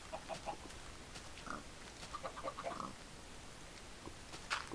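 A pig oinks in Minecraft with the Mystcraft mod, soft short grunts in small clusters, quiet against a hissing background.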